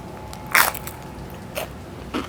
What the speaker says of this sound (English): The crunch is out of control.